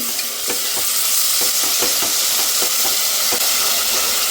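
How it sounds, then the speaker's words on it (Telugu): Ginger garlic paste frying with onions for biryani sizzles loudly and continuously, broken by repeated scraping stirs of a spatula in the pan. "ఇప్పుడు ఈ అల్లం వెల్లుల్లి పేస్ట్ కూడా పచ్చివాసన పోయే వరకు ఫ్రై చేసుకోవాలి"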